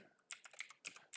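Quick clicks of keys on a computer keyboard, several soft taps in an irregular burst, close and quiet with no talking.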